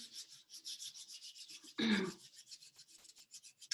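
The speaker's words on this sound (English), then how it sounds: "you can bring your hands together and just gently rub them." Two hands gently rubbed together during a guided meditation make a soft, steady swishing friction that runs continuously, with one brief, louder, fuller rub partway through.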